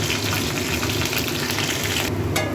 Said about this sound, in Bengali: রসুনটাকে একটু ভাজা ভাজা করবো